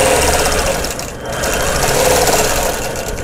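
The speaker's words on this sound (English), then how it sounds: "This is stitch in the ditch to kind of help separate the different designs." Sewing machine running steadily while quilting stitch-in-the-ditch seams on a vintage block sampler quilt, a continuous close mechanical whir with a brief slowdown partway through, no talking.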